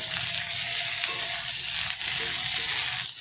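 Capsicum and sliced green chillies fry gently in a pan for chilli chicken, giving a steady, close sizzle with light stirring clatter throughout and no voices.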